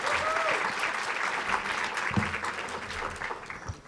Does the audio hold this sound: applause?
yes